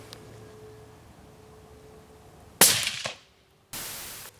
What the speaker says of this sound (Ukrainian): нажимаємо, проводячи постріл